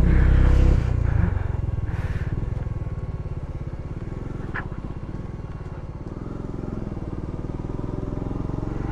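A motorcycle climbs a mountain road up to Sela Pass, its engine holding a steady, close, droning hum under the wind for the whole stretch.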